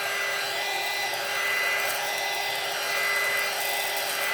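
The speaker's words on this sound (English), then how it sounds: "we're just gonna hit the bag with our heat gun, starting at the bottom and working up" A heat gun blows a steady, loud, airy roar up close while it shrinks a plastic treat bag, the hiss swelling slightly as the nozzle sweeps from the bottom of the bag upward.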